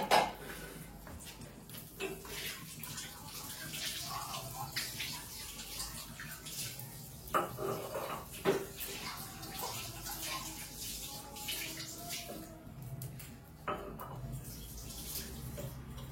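Tap water runs steadily into a kitchen sink with dishes, pots and pans clinking now and then, a continuous close washing sound with a few louder splashes and no talk.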